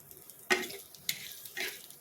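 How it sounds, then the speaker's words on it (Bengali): Curry leaves hit a drop of hot oil while making vada pav, giving three short sizzling bursts with the clink of a stirring spoon between them, close and fairly quiet. "কারি পাতা দিয়ে আমি নেড়ে নিচ্ছি"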